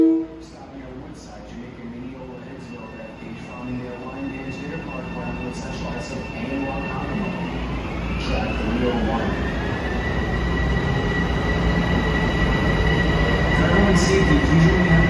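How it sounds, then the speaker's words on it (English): A Long Island Rail Road train pulls out of Grand Central station, with a steady rumble building slowly and long high wheel squeals rising and holding over the last half, nearby and fairly loud, with faint station voices underneath. "The 858 Rockhampton train now moving"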